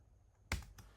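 A single sharp mouse or keyboard click while entering a formula in a Google Sheets spreadsheet, quick and close against a quiet background.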